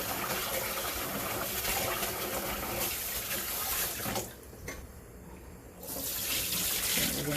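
A tap runs steadily into a bowl while jasmine rice is rinsed, a close, continuous gushing wash that briefly drops to a quieter trickle before resuming at full flow.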